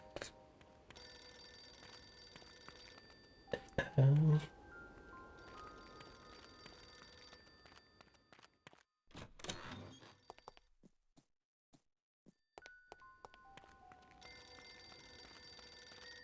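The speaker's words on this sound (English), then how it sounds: "I can't quite tell where the phone is coming from." Telephone ringing inside the video game No One Lives Forever, with repeated electronic ring bursts broken by pauses and a brief clatter of other game sounds, heard faintly and without talk.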